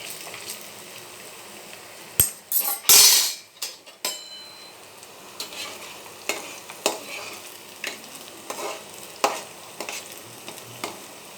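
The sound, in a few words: veg manchurian balls deep frying and being turned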